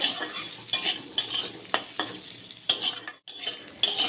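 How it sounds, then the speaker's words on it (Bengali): Taro pieces frying in oil with turmeric, salt and Kashmiri chilli, stirred with a metal utensil that clinks and scrapes against the pan in irregular strokes over a steady close sizzle. "কচুগুলোকেও আমি ওইভাবে ভেজে নেব"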